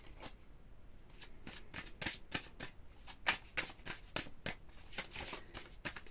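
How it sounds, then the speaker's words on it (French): Oracle cards being shuffled by hand, a rapid series of crisp riffling and slapping bursts in a quick uneven rhythm, close and clear, with no talking. "Je serais bien tentée quand même de prendre une carte de l'oracle des astres."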